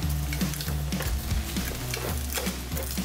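Cherry blossom oysters grill loudly on a hot surface, a steady close sizzle and crackle with repeated sharp pops and bubbling bursts throughout and no talking.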